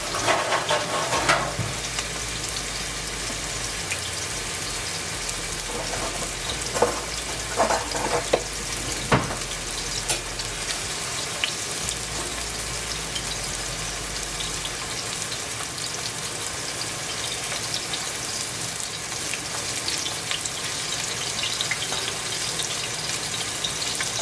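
King oyster mushrooms and vegetables for a quinoa stir fry sizzle and crackle steadily in a hot pan, with occasional stirring scrapes and spatters, no talk.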